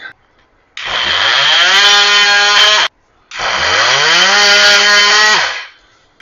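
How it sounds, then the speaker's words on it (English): An oscillating multi-tool cutting through wire closet shelving in two loud buzzing bursts, each whining up in pitch and then holding steady, with a short pause between them. "With this oscillating tool, I can slap an oscillating tool blade in there."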